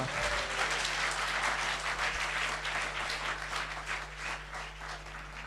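Sustained applause from an audience cheering talented young performers from TBI at a New Year's Eve event, dense clapping holding steady throughout over a low hum.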